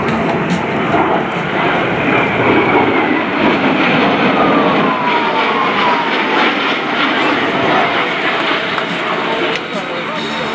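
An F/A-18E Super Hornet jet makes an inverted whisper pass at an air and space show, giving a steady, loud, broadband engine roar that holds throughout with a public address announcer speaking over it.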